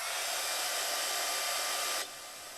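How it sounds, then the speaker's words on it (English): A heat tool blows steadily and loudly while drying a watercolor background, a constant broadband rush that drops to a quieter tone near the end as it is switched down, with no talking. "I'm gonna dry this again, and then we're gonna call this background done."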